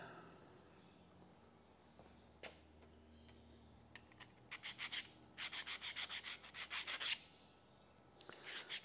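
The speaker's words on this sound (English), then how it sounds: "I'll just quickly run a file over that." A hand file strokes across a metal rotary table part, starting with a few isolated scrapes and then settling into a quick, regular run of rasping passes, close and fairly quiet in an otherwise still workshop.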